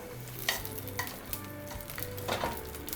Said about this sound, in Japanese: で拭いたお肉を焼いていきます。